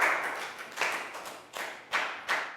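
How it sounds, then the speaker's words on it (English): Small class of children clapping for a classmate in a primary school lesson, a brief patter of claps that swells in a few separate bursts, fairly close and moderately loud, with no talking. "Big round of applause for Chu."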